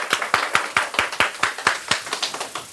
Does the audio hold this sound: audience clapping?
yes